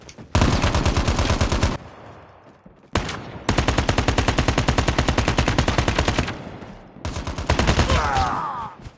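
An LMG fires in the mobile shooter COD Mobile in three long, rapid automatic bursts with short gaps between them, loud and close, with no talking over it.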